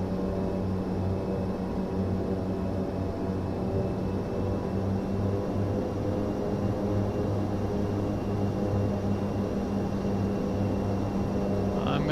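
Steady, continuous engine drone of an aircraft flying in Microsoft Flight Simulator 2024 in bad weather, a constant hum with tonal harmonics and no clear change in pitch across the stretch.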